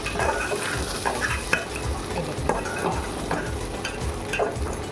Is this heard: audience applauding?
no